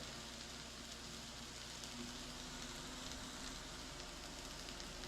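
Hash browns frying in a pan give a steady, even sizzle and crackle that holds at one level throughout, with no voices.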